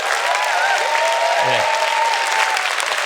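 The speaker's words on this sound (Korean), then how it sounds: "박수 한번 치셔야 돼요" A lecture audience gives loud, continuous applause to a tenor speaker, and the even clapping carries on steadily while a voice briefly speaks over it.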